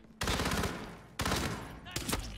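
Gunfire in a video game comes as three loud bursts of rapid shots, each cut off sharply, with short quiet gaps between them.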